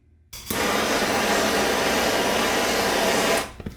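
A heat gun blows steadily on a speedometer gear for a Muncie M22 transmission, switching on after a short silence, holding a loud, even airy whoosh for about three seconds, then cutting off.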